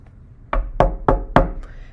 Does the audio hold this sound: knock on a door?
yes